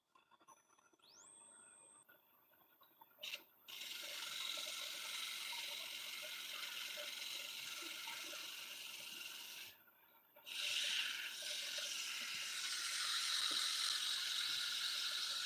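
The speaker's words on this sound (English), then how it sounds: "A little bit of sanding." Sanding a turned wooden object on a lathe for a lampshade: a faint continuous rubbing rasp with steady spinning, stopping briefly twice and resuming.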